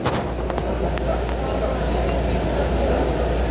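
A Miami Metrorail Green Line train in motion, heard from inside as a steady low rumble and hum of the car running along the track, with an onboard announcement voice speaking over it.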